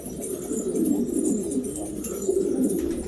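Pigeons cooing steadily nearby, soft low rolling calls overlapping throughout, with a faint high hiss of other birds behind.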